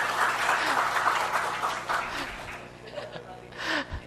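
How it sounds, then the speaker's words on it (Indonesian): An audience at a nursing legal-ethics and home-care seminar claps in a burst of applause that fades after a couple of seconds, followed by faint murmurs and speech. "Tepuk tangan, ya."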